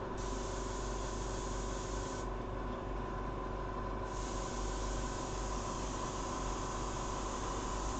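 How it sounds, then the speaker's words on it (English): An airbrush is cleaned by spraying it out: a faint, continuous hiss of air with a steady even texture that briefly dips in brightness midway, heard alone without talk. "Must clean the airbrush."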